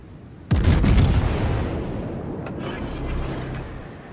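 A warship in a naval video game fires a full broadside of HE rounds, a sudden loud boom whose long rumbling tail fades over several seconds, followed by a few fainter distant thuds.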